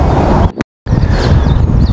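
Wind blowing hard across an open carp fishing spot by the water, a loud continuous rumbling buffet against the microphone that breaks off for a split second and then returns.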